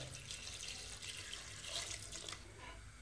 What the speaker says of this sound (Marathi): भाज्या व्यवस्थित बुडतील एवढं पाणी घालणार आहोत।